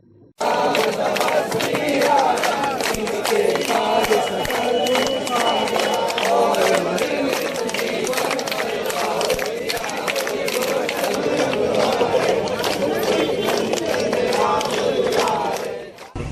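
An angry crowd protests outside a building in Korba, sitting and reciting the Hanuman Chalisa, a dense continuous roar of many voices chanting and shouting for the whole stretch.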